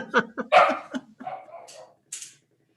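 A dog barks several times in quick bursts, fairly close and loud, during a home Shabbat service, followed by a brief higher yelp after a short pause.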